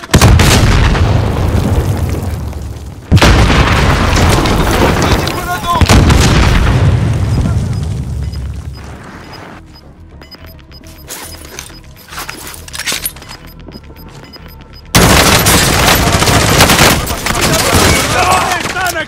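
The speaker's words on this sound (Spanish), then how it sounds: "¡Cuidado al disparar!" Heavy gunfire in a video game battle: loud bursts of booming shots and rapid fire, dropping to scattered, quieter shots midway before the intense barrage returns.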